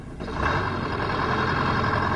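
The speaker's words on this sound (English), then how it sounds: "start your engine." A road roller's diesel engine catches after a brief quiet moment, then settles into a steady, close, rumbling idle.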